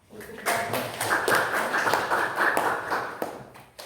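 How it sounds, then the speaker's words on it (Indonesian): A group in a teacher-training classroom breaks into applause, a dense patter of hand claps lasting about three seconds at moderate volume before it quickly stops. "tepuk tangan"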